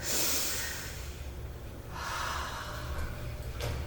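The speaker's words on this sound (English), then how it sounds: "Just breathe in and out normally" Deep breaths in and out during an abdominal and lumbar balance exercise, a steady breathy rush with a couple of sharper snort-like inhalations, close and alone without talk.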